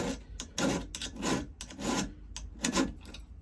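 A hand file rasps across a chainsaw chain's cutters during sharpening, in repeated close, scratchy strokes of even rhythm, with no talking.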